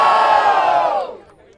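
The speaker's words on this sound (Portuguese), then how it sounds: "Muito barulho pras rimas de GRM." A crowd at a rap battle in Barueri, São Paulo roars in a loud, unified cheer that holds for about a second and then quickly dies away.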